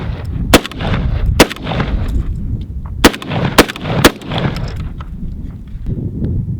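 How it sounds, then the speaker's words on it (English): A Fostech Origin 12 short-barreled semi-auto shotgun fires a string of about seven loud, sharp blasts in quick, uneven bursts, each with a short rumbling echo outdoors. "let's get to doing some shooting, show you guys how fast she fires away"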